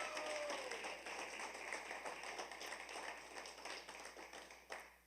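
Applause from an audience at a youth awards ceremony, a soft, fairly distant patter of many hands that stays even throughout, with a brief louder clap near the end.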